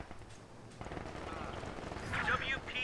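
Gunfire rattles across a Company of Heroes 2 battle on a steppe map, a continuous, fairly distant crackle of small arms and heavier bursts mixed under a voice speaking.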